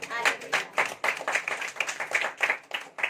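A girl claps her hands at a church gathering, a run of quick, fairly close claps in steady bursts, with voices murmuring around them.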